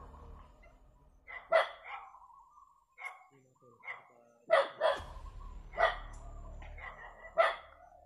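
Dogs bark repeatedly at moderate distance, sharp single and double barks spaced irregularly, with a person talking quietly underneath.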